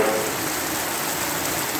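Steady evening rain falls continuously on a house veranda, a dense even hiss of drops with no voices and no other sounds standing out.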